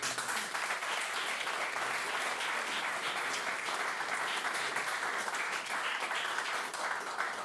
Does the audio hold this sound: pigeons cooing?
no